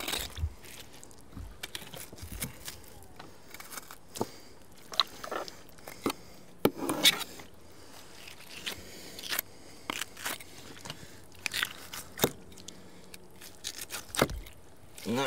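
A knife works through meat from an alligator tail with soft, irregular slicing, tearing and crackling cuts, close and fairly quiet, spread in short bursts across the stretch with no talk.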